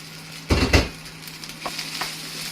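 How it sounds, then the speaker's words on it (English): Cooked egg is stirred into egg fried rice in a frying pan: two loud scraping stirs up close over a soft steady sizzle, then quieter shuffling. "We then want to return our egg to the pan"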